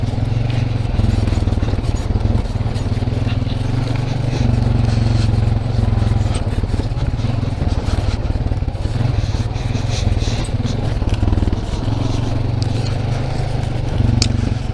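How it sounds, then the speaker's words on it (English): A fuel-injected 2010 Honda Rancher 420 four-wheeler with a hand shifter runs along a trail at Windrock Park, its engine droning loud and steady throughout, with rattles and scrapes from the rough ground mixed in. "The four-wheeler that I run is a 2010 Honda Rancher 420."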